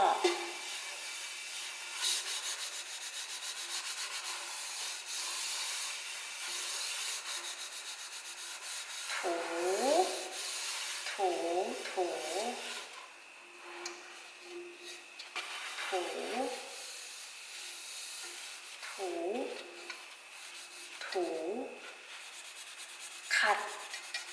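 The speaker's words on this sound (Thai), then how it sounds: "ล้างหม้อ" Steady rough scrubbing of a pot, a continuous scratchy rasp, with a voice speaking intermittently over it in the second half.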